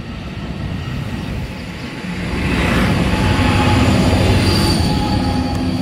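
An Amtrak Pacific Surfliner train with a Bluebonnet-liveried leading unit pulls out of a station, loud and close, with rumbling wheels and rail noise swelling midway and high, thin wheel squeals drawn out over the rolling clatter.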